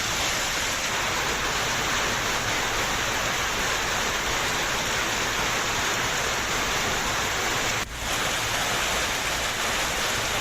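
Torrential rain pours down in Rajouri district, a dense, loud and unbroken hiss that runs the whole time with one brief dip near the end and no voices.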